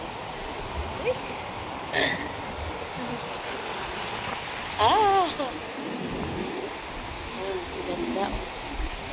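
Sea waves washing at a beach at sunset, a continuous broad rushing wash under a man's brief exclamations and soft talk.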